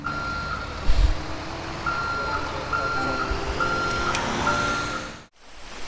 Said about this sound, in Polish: To jest nasza ciężarówka.